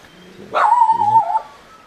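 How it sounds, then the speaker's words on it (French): Small dogs bark and yip at a riverside spot along the Diahot river in New Caledonia, one close, loud bark sequence with a whimpering, tonal quality lasting about a second amid quiet surroundings. "les petits chiens qui avertissent de l'arrivée des rares visiteurs du lieu"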